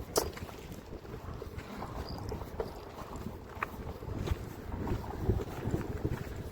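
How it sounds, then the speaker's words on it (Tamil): Strong, cold wind blows across a small fishing boat out at sea, making a steady, rough roar with gusty buffeting and scattered knocks, and no voices. "கூதல் அடிக்கிற காத்து பயங்கர காத்தாயிக்கு"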